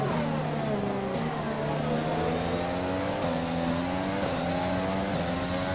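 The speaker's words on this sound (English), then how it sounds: "Good seeing these 2020 F1 cars as well, actually out on the track and racing." 2020 Formula 1 cars racing at Zandvoort in the F1 2020 video game, high-revving engines whining loudly and continuously, pitch rising and dropping through gear changes with several cars audible together.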